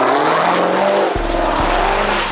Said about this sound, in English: take the Jeep out, and do a couple little donuts for y'all